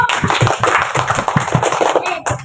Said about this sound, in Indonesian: Beri tepuk tangan untuk kita semua dulu.